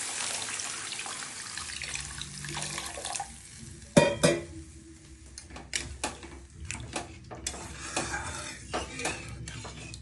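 Water poured into a pan of hilsa fish curry on a home stove, a running splash under clinks of metal pots and utensils, with a sharp clatter partway through and scattered knocks after.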